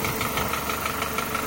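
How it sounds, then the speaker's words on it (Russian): A Lifan Solana car engine idles with a fault, a fast steady knock repeating over a constant mechanical drone, recorded close and loud with no talk. "Стук в двигателе. Приблизительно стучит вот так."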